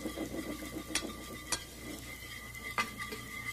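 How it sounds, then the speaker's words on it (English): Olive oil vinaigrette whisked in a bowl, a steady soft scraping churn with a few sharp clinks of the whisk against the rim, close and quiet with no talk. "The whisk."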